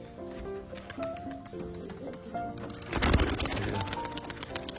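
Pigeons cooing softly from a home loft amid outdoor bustle, with a louder burst of wing flapping or clatter partway through as birds take off.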